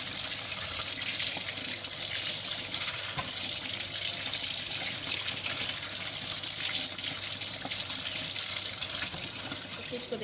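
Fish pieces washed by hand under a running kitchen tap, a steady broadband rush of water splashing into a sink throughout, close and continuous with no talk.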